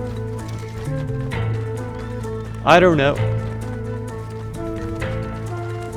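A horse whinnies in the middle, loud and brief, over a steady Red Dead Online game soundtrack, with someone talking around it.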